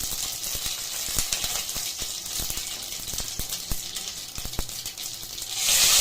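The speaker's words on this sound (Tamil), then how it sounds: "கடுகு சீரகம் தாளிச்சிட்டு வெந்தயம், பெருங்காயத்தூள்," Mustard seeds and cumin tempering in hot oil for vendakai and kathirikai sambar, a steady fine sizzle with scattered sharp pops and crackles, close and alone, swelling louder near the end.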